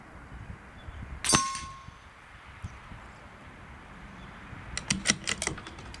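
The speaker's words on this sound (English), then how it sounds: "So I'll just shoot the first plate just to see where my impacts are." A CZ 457 rifle shooting downhill at steel plate targets outdoors: one sharp clang near the start, then a burst of several quick metallic rings and ticks toward the end, over a quiet outdoor background.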